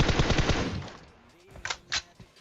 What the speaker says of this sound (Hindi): गोली चला रहा हूं और बहुत कम बर्बाद हो रही है गोली